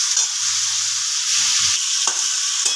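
Onion and chicken fry in a pan for egg chicken tadka, giving a steady close sizzle with soft stirring scrapes and a few sharper clinks, no voices.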